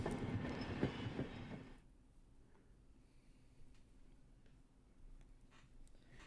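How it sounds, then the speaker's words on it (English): A train in the video game Higurashi pulls into its final stop, with a loud rumbling roll that cuts off after about two seconds into a quiet, low hum with faint clicks. "It seemed the train had reached its final stop."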